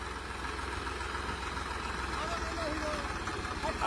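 A tractor idles nearby with a low steady rumble, mostly under a man's speech.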